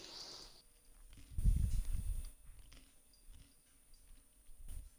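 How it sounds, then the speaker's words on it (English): Someone close by crunches and chews food, a burst of loud crunchy bites in the middle followed by softer intermittent chewing, with quiet background between. "What are you crunching on?"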